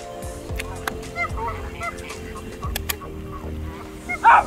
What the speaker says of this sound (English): See all those mallards over there? You got the mallards, you got the geese